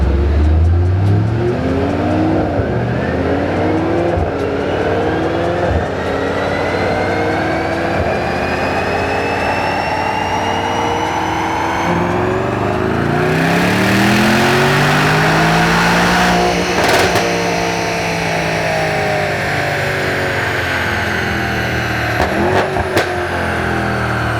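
A Mercedes-Benz E63 S revs hard on a dyno, its engine note climbing through long sustained pulls, dropping back, then surging again, loud and close throughout with no voices over it.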